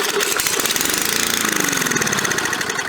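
A repaired gas lawnmower engine cranks and sputters in a rough, continuous, fairly loud burst that never settles into a steady run.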